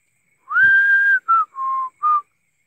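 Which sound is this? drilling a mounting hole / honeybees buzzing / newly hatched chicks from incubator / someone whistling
someone whistling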